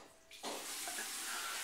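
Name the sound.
warm water poured into a neti pot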